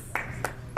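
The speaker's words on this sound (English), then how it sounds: "that's a pity clap" One audience member at a live convention panel claps alone, three sparse, soft claps spaced well apart against a quiet room hum.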